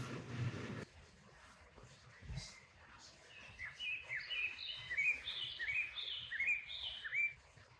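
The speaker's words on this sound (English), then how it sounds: "The sound of the birds and the bugs, and with it this profound feeling of life that emerges from all around." Birds call in the Colombian rainforest around a glass-walled eco-hotel, with a series of repeated, bright chirps coming at a moderate distance over a soft, quiet background of ambient rainforest noise.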